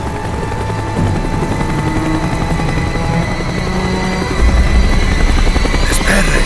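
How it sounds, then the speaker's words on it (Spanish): Helicopter circling in Call of Duty Black Ops, a loud constant rotor drone with a steady whine and low throb that grows heavier toward the end. "El helicóptero está dando la vuelta."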